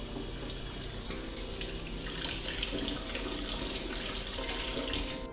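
Cold tap water runs steadily into a sink over freshly boiled eggs to cool them, a continuous close splashing rush with no pauses.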